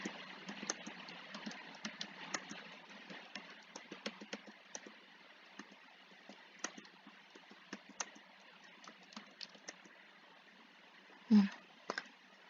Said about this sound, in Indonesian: kita bisa memasukkan sesuatu melalui keyboard gitu